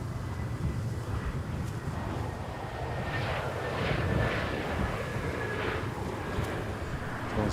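A Transavia airliner in retro livery arriving at Schiphol Amsterdam airport in windy weather, a steady distant jet engine roar mixed with broad rumbling wind noise.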